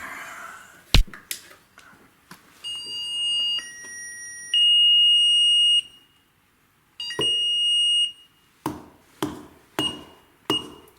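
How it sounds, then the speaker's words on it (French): A vibration detector alarm at an apartment entrance is being tested. Sharp taps set off bursts of high electronic tones and sustained beeps that stop and restart, followed by a series of knocks. "Là, on a le détecteur de vibration à l'entrée."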